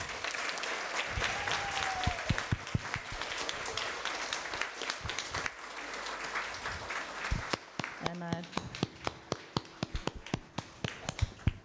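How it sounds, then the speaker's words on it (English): An audience at a church celebration of the Transitus of St. Francis of Assisi applauds, a sustained wash of clapping that thins into scattered individual claps, with a voice briefly heard over it. "please give them a big clap."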